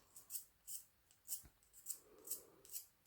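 A scissors blade is scraped repeatedly across 2H pencil graphite to make powder, giving about seven quiet, rhythmic rasping strokes close by.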